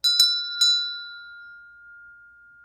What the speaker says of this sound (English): let me hold that and ring the bell